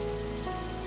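Heavy rain falls steadily in a dense, continuous hiss with no pauses, filling the whole short moment evenly with no voices.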